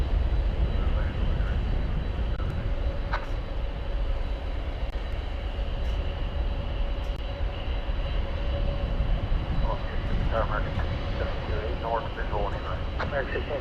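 Airbus A380 jet departing a DFW runway in the distance: a steady, broad low roar rumbles throughout, with air traffic control radio talk over it.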